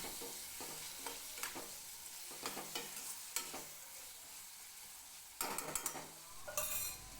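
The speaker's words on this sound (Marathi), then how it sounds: "त्यानंतर यामध्ये चण्याची डाळ घालून घेतली छान परतवून घ्यायची" Chana dal frying in an oil tempering while being stirred in a pan, with a soft steady sizzle broken by repeated scraping and clinking strokes of the spoon against the pan, close and without talk.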